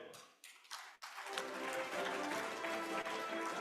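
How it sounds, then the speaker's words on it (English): An audience at an architecture and interiors design forum in India claps for invited speakers, starting after a few quiet taps and building into sustained, fairly quiet room applause. "A round of applause for all of them."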